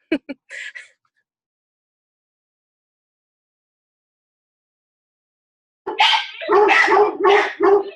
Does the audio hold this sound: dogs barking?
yes